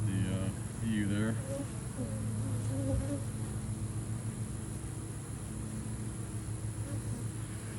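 Honey bees swarm around an open hive at the Elm Grove apiary, a dense, continuous buzzing drone that fills the scene, with a person speaking briefly near the start.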